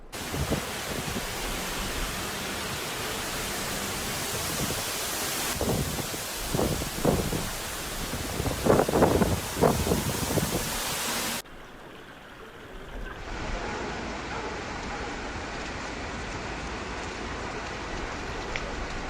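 Heavy hail and rain pour down in a dense, steady roar with scattered sharp impacts, then cut to a quieter, hissing downpour partway through.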